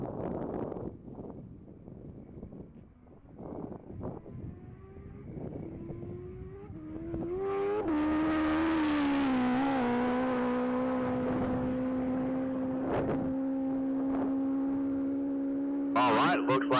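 An orange 2014 Kawasaki Ninja ZX14R makes a top speed run at the Texas Mile, its engine rising from faint and distant to a loud, sustained high-pitched drone, with a commentator talking over the early part.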